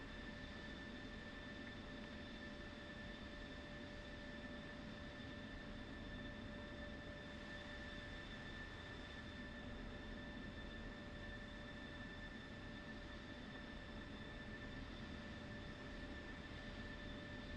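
F-16 jet engine in a flight simulator game, a steady, fairly quiet whining drone with constant tonal hum, unchanging throughout with no talk.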